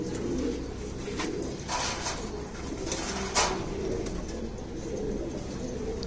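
Soft, low pigeon cooing repeats over a steady rumbling background, with a few faint clicks and rustles mixed in.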